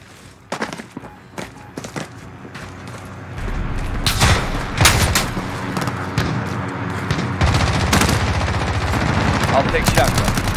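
Gunfire in Call of Duty Modern Warfare: sharp bursts of automatic weapon fire and scattered single shots crack out close by, with booms and a dense rising din of battle behind, and a voice calling out over it.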